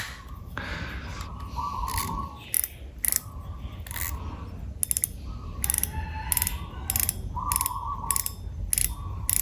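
A Ryobi Zauber LT 3000 fishing reel is cranked in uneven bursts, its ratcheting clicks and whirring gears close up, with short pauses between turns.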